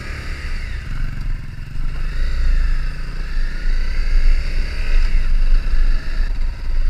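Small off-road dirt bikes ride along a trail, their engines buzzing steadily and loudly with rising and falling revs and some clatter, carrying on throughout with no talk.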